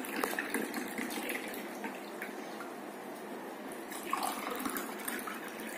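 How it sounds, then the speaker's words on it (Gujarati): Water is poured into an empty glass, making a soft, continuous trickling and splashing. It is quiet and close, with no talking. "ખાલી ગ્લાસમાં પાણી એડ કરીએ"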